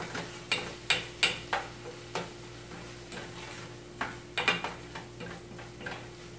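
Seasoned meat stirred with oregano in a pan, a series of light clicking scrapes from the utensil against the pan in irregular bursts, close and fairly quiet.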